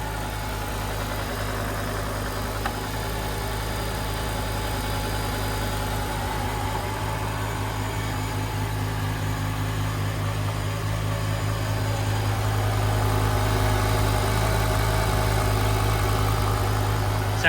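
A BMW E60 M5 V10 idles with its power steering belt removed, a smooth steady low rumble with faint mechanical whir, close and continuous, slightly louder near the end, no speech.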